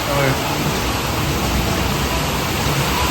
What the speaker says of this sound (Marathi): पाऊस जोरदार चालू आहे